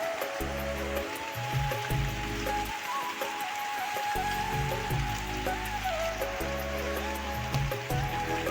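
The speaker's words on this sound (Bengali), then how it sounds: "আজকে আমাদের এইখানটায় খেপে খেপে বৃষ্টি হচ্ছে দেখো" Steady rain patters and drips throughout, with a continuous tonal hum and low rumbling underneath; no voices are heard.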